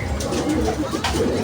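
Pigeons coo close by in a loft, with soft repeated throaty calls that overlap over a steady background.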